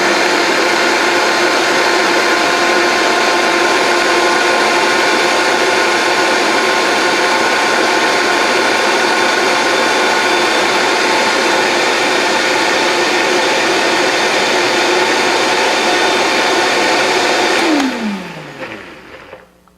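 A Vitamix blender runs at high speed with a steady, loud, whining motor roar that holds for most of the stretch, then spins down with a falling pitch as it is switched off.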